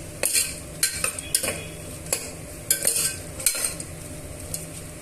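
Chopped onion and slit green chilies frying in a pan, stirred with a metal spoon: a low sizzle under a series of bright clinks and scrapes against the pan, close, with no talking.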